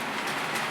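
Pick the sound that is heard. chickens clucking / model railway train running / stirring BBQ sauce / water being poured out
model railway train running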